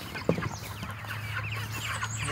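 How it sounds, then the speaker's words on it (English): Chickens on an off-grid homestead clucking softly and intermittently, with one sharper cluck early on, over a steady low background hum. "We need to get the chickens moved to some nice fresh"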